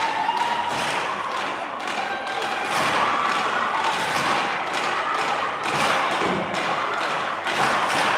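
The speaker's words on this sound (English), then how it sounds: "slam their sticks down and get in a circle and cheer each other on." Girls' youth hockey players bang their sticks down on the ice in a huddle, a dense run of thuds and taps repeating over crowd noise and faint cheering in an arena.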